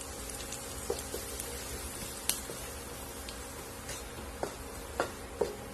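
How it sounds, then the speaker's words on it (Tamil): Quiet, steady sizzling of onions sautéing in hot oil, with a few sharp pops and crackles scattered throughout. "வெங்காயத்தை இந்த எண்ணெயில வதக்கி விடுங்க."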